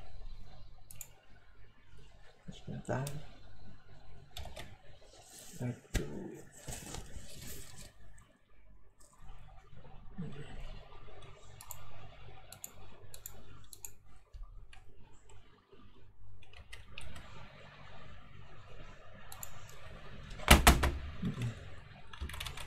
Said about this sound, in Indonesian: Kayaknya macet keyboard saya, nggak jalan keyboardnya